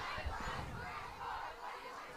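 A junior cheer squad cheering at a high school football game, a faint distant crowd of voices chanting and shouting in a steady wash, heard from far across the stadium.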